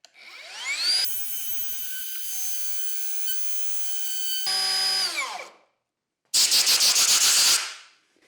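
Wood router cutting a deeper mortise with a jig, whining as it spins up, a loud steady cut that winds down, then a brief harsh burst of cutting after a short silence.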